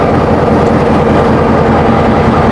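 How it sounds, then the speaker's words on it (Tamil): A loud, steady rumble from an old Class M6 diesel locomotive engine, number 787, in Haputale, Sri Lanka: a continuous low drone with no pauses or voices. "பழைய டீசல் இன்ஜின் தான்"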